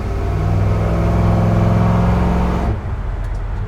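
A 1971 Chevrolet C10 Cheyenne pickup truck drives and accelerates on a straight stretch of road, its engine a loud, steady close-up drone with a rising note that drops off abruptly near the end, leaving a quieter rumble.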